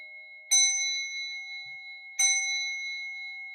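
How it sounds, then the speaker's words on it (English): A meditation bell struck twice, about two seconds apart, each a bright clear ring with a long sustained tone that slowly decays in a quiet room. "So when the meditation's actually over, I'll ring this bell."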